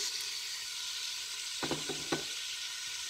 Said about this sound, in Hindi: ये प्याज जो कटी हुई थी ये डाल दूंगी